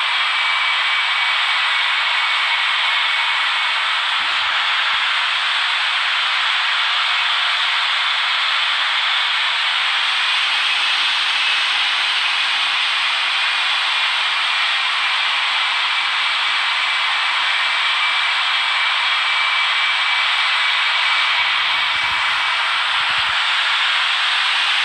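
Boeing 777-300ER jet engines hiss and roar steadily in a broad, continuous wash during the takeoff roll at Hong Kong in the RFS flight simulator. The level stays constant throughout with no voices.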